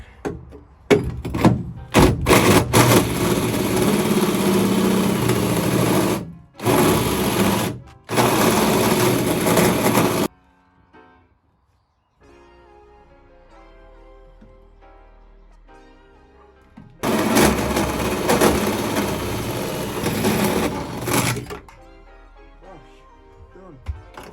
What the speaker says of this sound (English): so I'm just going to carry on drilling